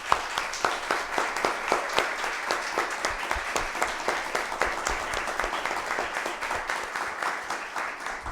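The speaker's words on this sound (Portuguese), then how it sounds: "Uma salva de palmas" A round of applause in a municipal council chamber in Caieiras after a motion is approved during an ordinary session, with steady rhythmic clapping from a modest group at moderate distance, fairly even throughout.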